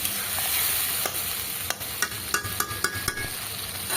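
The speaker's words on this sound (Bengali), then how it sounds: "দিয়ে এবার ভালো করে মশলাটাকে কষিয়ে নিতে হবে।" Masala spices and tomato sizzle as they fry in a pan, under a steady hiss. Rhythmic stirring scrapes and taps build to a quick run of strokes toward the end.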